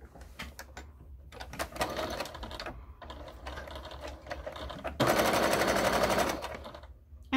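A sewing machine stitches a fabric cover for a cutting machine, running in a steady rapid mechanical chatter that grows louder and brighter for the last couple of seconds before easing off, close and alone.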